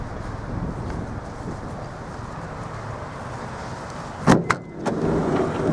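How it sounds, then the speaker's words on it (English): A steady wind-like whoosh and low vehicle hum, then a short motorized whir with a thump and clack partway through as the electric sliding door of a Mitsubishi Delica D5 van opens and latches. "Electric sliding door on the left hand side, and just pushing that button there, you can activate it"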